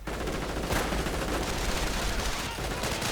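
Dense, continuous gunfire and explosions from a World War II strategy video game, including an anti-tank gun firing, form a loud unbroken wall of battle noise, with a voice speaking underneath.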